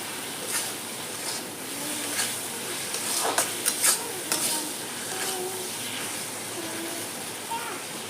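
Chopped tomato tipped into a frying pan for a mustard-paste katla fish curry, a steady sizzle with spoon scrapes and clinks against the pan, a cluster of sharper knocks midway, close up.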